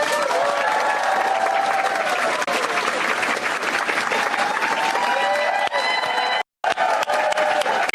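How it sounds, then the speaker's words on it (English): Sustained, dense clapping from a large crowd at a campaign speech at campaign headquarters, loud and continuous with scattered cheers, cutting out briefly near the end before resuming. "hear this clapping?"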